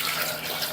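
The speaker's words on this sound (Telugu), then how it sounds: "ఇందులోకి వాటర్ వేసుకోవాలి" Water runs steadily into a pot of tomatoes and other ingredients while drumstick dal is being made, a continuous close splashing pour with no talk over it.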